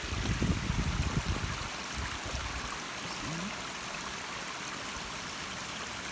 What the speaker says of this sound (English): Another little creek to cross.